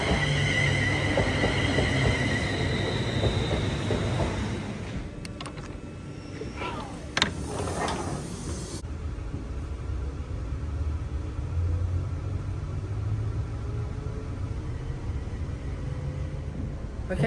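Interior of an East Midlands Railway Class 360 electric train in motion in the declassified first class section, a steady low rumble and broadband hiss of running with a few brief squeals and clunks midway.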